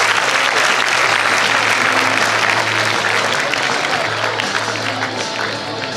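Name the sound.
applause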